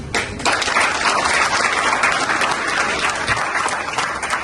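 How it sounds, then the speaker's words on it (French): Full, sustained audience applause after a speech on cryptocurrency in Africa, dense clapping from a large crowd that holds steady and loud, tapering slightly near the end. "Alors, on applaudit encore."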